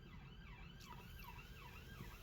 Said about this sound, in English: But I do hear those sirens going by once in a while.